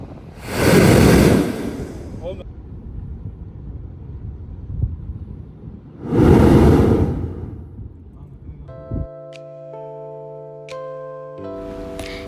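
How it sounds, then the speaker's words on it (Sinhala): A sea blowhole at Albany, Western Australia, blasts spray upward twice in loud whooshing bursts a few seconds apart, with a low surf rumble between them and a tonal hum near the end. "මේ බෝඩ් එක තියෙන තැනින් වතුර උඩට ස්ප්‍රේ වෙනවා. ඒත් එක්කම ලොකු සද්දෙකුත් එනවා."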